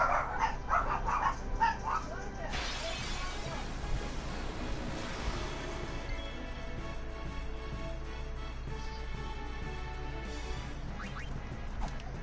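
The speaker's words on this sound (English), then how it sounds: "every time I go to talk, the dogs start barking." Dogs bark and whimper at a distance under a steady, surf-like background wash, the barks sporadic and not very loud.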